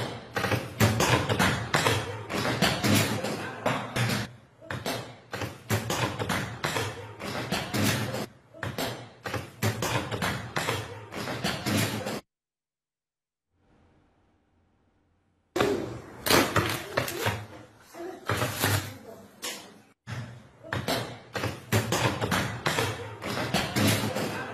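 Electrical power lines in Dhi Qar, Iraq, bursting in repeated explosive cracks and thuds, loud and dense in rapid bursts, with a brief near-silent gap midway before the popping resumes.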